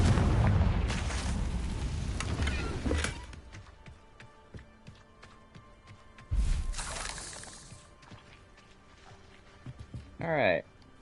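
A Confringo fire spell in Hogwarts Legacy goes off as two loud booming blasts, each followed by crackling debris and a fading rumble, with a short sharp magical whoosh near the end.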